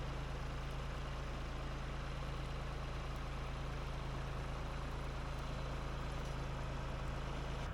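A tractor engine runs at a steady idle, a continuous low, rumbling drone with an even hum and no breaks, heard alone.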